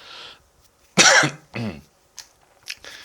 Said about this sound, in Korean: 기침이 밤 늦은 시간이 되면 이렇게 한 번씩 나오는데